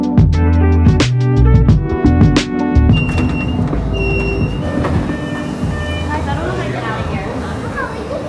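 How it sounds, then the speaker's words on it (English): A modern train in China rolls past close by with heavy rumble and a loud horn blast at the start, wheels clattering and squealing as it moves away. "that was the train I came from."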